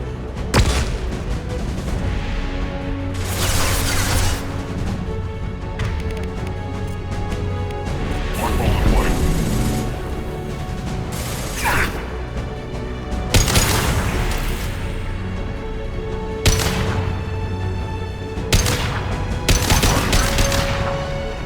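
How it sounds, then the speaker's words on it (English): Flashbang grenades going off amid heavy gunfire in the video game Mass Effect 2, with loud repeated bursts of blasts and rapid shots over a constant battle din throughout. "Watch out, flashbangs!"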